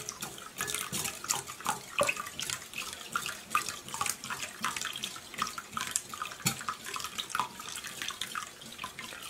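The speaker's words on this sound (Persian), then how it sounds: "حالا اینجا یک مقدار آب سرد بهش اضافه میکنم، چرا که ما نیاز داریم کشک رو از دوغ تهیه کنیم." Cold water poured into doogh (diluted yogurt drink) while making kashk, a steady splashing, trickling pour close by, continuous with brief bursts, no talking.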